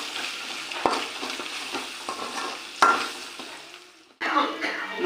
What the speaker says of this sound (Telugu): అల్లం పూర్తిగా పచ్చివాసన పోయేంత వరకు ఫ్రై చేసుకోవాలి.